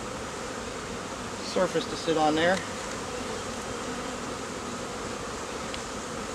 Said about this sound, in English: smoke the bees back the other way into the box